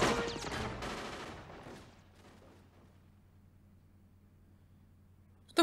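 Gunfire from the 1990 film Total Recall: a dense burst of shots and impacts that fades after about two seconds into a low, steady hum, with one sharp hit at the very end.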